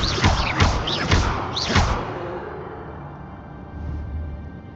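In Hogwarts Legacy, an Incendio fire spell bursts out with a few sharp whooshing hits in quick succession, then trails off into a soft crackling fade.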